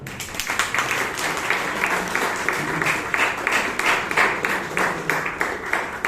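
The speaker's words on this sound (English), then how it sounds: "Let's give our Toastmaster a huge round of applause." Applause for the Toastmaster at a Bangalore Toastmasters club meeting: a room of people clapping in a continuous, lively round for around six seconds, fairly close and steady throughout.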